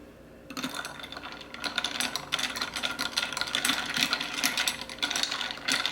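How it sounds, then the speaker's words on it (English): Ice cubes and a spoon clatter and rattle in a glass of iced coffee being stirred, a rapid close-up jangling that starts after a brief quiet moment and continues unevenly to the end. "I'm going to stir."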